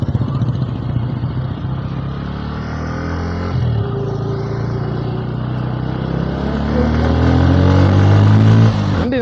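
A Bajaj N160 motorcycle with dual-channel ABS rides along a road, its engine droning steadily close by and swelling louder toward the end.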